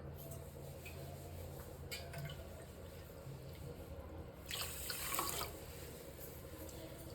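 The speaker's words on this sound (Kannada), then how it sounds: "ಮೂರುವರೆಯಿಂದ 4 ಬೌಲ್ ಆಗೋಷ್ಟು ನೀರನ್ನು ಹಾಕ್ತಾಯಿದ್ದೀನಿ" Water runs steadily from a tap into a pan for gulab jamun sugar syrup, with a brief louder splashing burst partway through and faint clinks.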